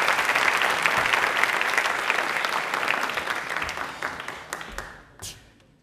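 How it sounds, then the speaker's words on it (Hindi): A studio audience at a Doordarshan Rajasthan Hindi fortnight programme bursts into loud applause to welcome the guest Rakesh Jain. The clapping is dense and sustained, then tapers into a few last claps before silence. "प्लीज एक बार तालियां जोरदार हो जाए राकेश जी के लिए"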